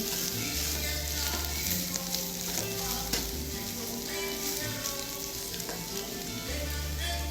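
Plantains frying in oil for tostones give a constant dense sizzle at close range, with music playing underneath throughout.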